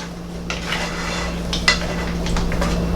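Mussels being stirred with tomatoes and parsley in a pot, with soft clinks and scrapes of a utensil against the metal, some louder knocks, over a steady low kitchen hum.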